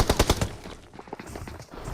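Rapid bursts of automatic gunfire in the mobile battle royale game Battlegrounds Mobile India, several loud close shots at the start, then sparser, quieter shots and game noise.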